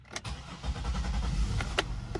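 A used car's engine cranks and catches, settling into a low rumble with a few sharp clicks on top, close by.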